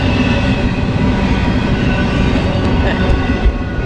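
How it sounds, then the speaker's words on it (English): Close, continuous rumble and clatter of a passing train, loud and unbroken throughout. "See how much longer this train goes."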